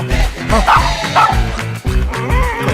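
A dog barks and yips repeatedly in quick, loud bursts close by, with a short pause partway through.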